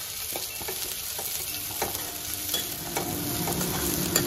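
Onions frying with vadagam and curry leaves in coconut oil, a steady close sizzle with faint scraping of a spatula now and then, no talking.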